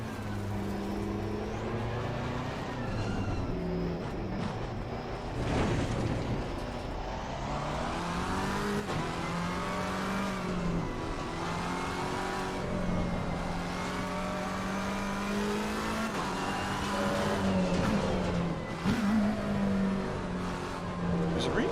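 A Porsche 911 R engine snarls in Assetto Corsa Competizione at St. Petersburg, a steady raspy drone rising and falling through gear changes, heard from the cockpit with a voice talking over it at times.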